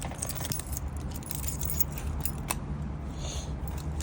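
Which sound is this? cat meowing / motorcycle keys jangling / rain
motorcycle keys jangling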